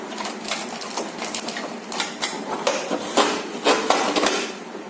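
An Usha Janome Stitch Magic sewing machine runs in short, close, clattering bursts of rapid stitching, stopping and restarting in an uneven rhythm.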